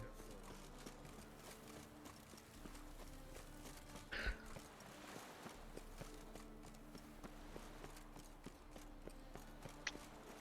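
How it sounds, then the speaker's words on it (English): Horse hooves clip-clop steadily while riding in the video game The Witcher 3, a soft, even rhythm under a quiet backdrop of game music. "I think we'll ride our horse over there."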